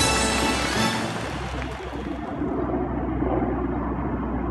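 A helicopter drones overhead in the Mini Golf King video game, a steady rumbling engine and rotor wash that starts loud and then gradually muffles and fades.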